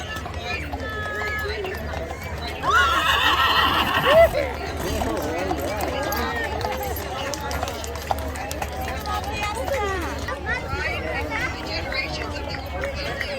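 Horses in the equestrian section of a Santa Barbara Fiesta parade, with a brief whinny and hooves clip-clopping on pavement amid crowd babble, while people talk nearby throughout.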